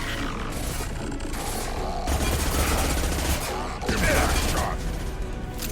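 Constant gunfire in the 2010 PC action RPG Mass Effect 2, a dense, rapid stream of shots with heavier bursts midway. It runs loud and continuous under the game's busy battle mix.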